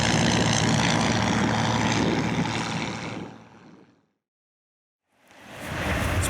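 A light propeller aircraft engine at an airport, a loud steady drone that fades out into about a second of silence, then swells back in strongly.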